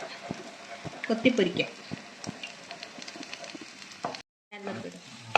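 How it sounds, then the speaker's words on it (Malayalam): Eggs sizzle and crackle frying in a hot pan, with scraping stirring sounds and a voice speaking briefly over it. "നമ്മുടെ മുട്ട ഇവിടെ ചിക്കിയിട്ടുണ്ട്, പൊരിച്ചിട്ടുണ്ട്"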